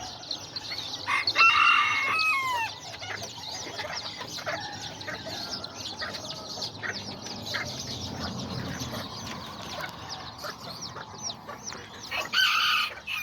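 Chickens clucking close by with a rooster crowing, among pigeons and new chicks, with scattered wing flaps and a louder burst of calls near the start and end.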